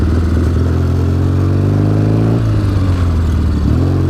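A motorcycle engine drones steadily and loudly throughout, its pitch sliding as the rider shifts and accelerates, with rushing wind underneath.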